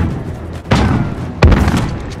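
Two heavy booming gunshots in Call of Duty Modern Warfare, close and loud, spaced under a second apart, each trailing into a rumbling decay.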